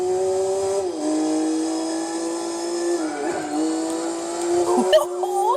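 A race car in the Gran Turismo 4 video game holds a steady engine drone that dips and climbs with gear changes, and a brief tire squeal comes near the end. It plays throughout at a moderate level.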